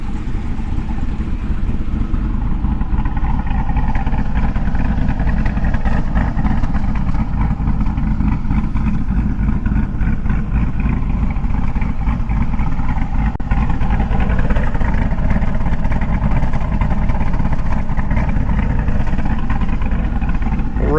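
C5 Corvette with a forged 408 V8, Summit 8722 R1 camshaft and an LSA blower supercharger: a loud, close, choppy lumpy idle with uneven throbbing pulses, holding steady with slight rises in engine speed throughout.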